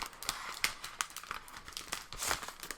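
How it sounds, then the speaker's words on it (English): Crinkly, crackling plastic sounds as protective film is slowly peeled off a 2019 MacBook Pro, with small sharp snaps scattered through the steady rustle, close and fairly quiet. "There's no noise better than this unpeeling noise."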